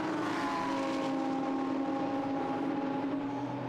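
Lamborghini Super Trofeo race cars at Silverstone's Brooklands corner give a steady, distant engine roar with sustained tonal whine, the field running through together without a clear single pass.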